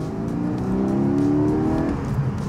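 The 4.0 engine of a Porsche 718 Boxster GTS revs up through a rising, whirring pitch sweep, close and loud, then eases off, with steady road rumble beneath and no talk.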